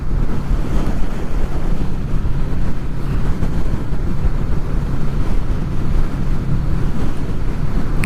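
Strong wind roars steadily across the microphone on a Honda VFR800 motorcycle ride in wet weather near Sleddale, a loud continuous buffeting rush with no voices.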